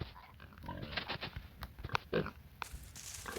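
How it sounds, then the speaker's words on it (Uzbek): A pig in the Minecraft video game gives several short, faint grunts and oinks in a row. "Cho'chqa"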